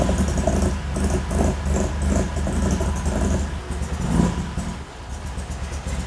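A V6 engine in a Toyota MR2 runs rough and lumpy at close range, pulsing unevenly with rising and falling revs, like it is laboring.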